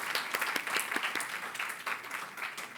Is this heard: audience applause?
yes